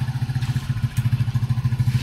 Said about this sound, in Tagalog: ginamit namin yung isang motor namin